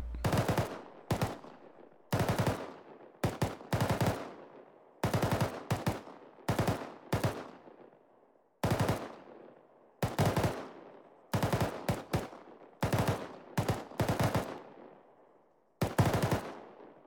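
In a video game, a SAW light machine gun fires short, loud bursts of automatic gunfire with brief pauses between them, repeated over and over.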